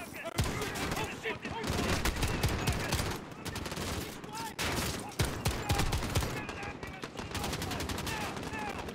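Rapid gunfire in the video game Modern Warfare, dense bursts and automatic fire rattling almost continuously, loud and close, with a voice speaking at times over it.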